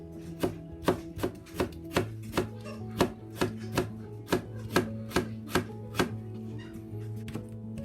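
A knife chops potatoes into very thin slices for a cold Chinese shredded potato salad, about fifteen crisp, evenly spaced strikes on the board, close and clear with no talk.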